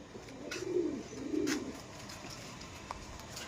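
Male pigeons coo in two soft, low, throaty rolling calls close by, followed by quieter rustling and a faint background hum.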